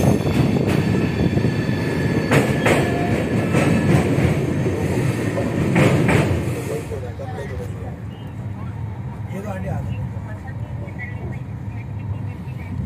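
Dayodaya Express 12181 on the Kota–Jaipur run, a steady loud rumble of the train rolling on rails with clattering wheel noise and brief metallic squeals, heavier in the first half then easing, with people talking over it.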